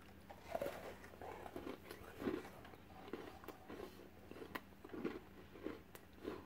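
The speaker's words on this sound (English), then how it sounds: "A lovely crunch." Crunchy milkshake-flavoured cream biscuits from ALDI's Belmont range are bitten and chewed close up, giving repeated soft crunches at a steady pace, fairly quiet, with no talk over them.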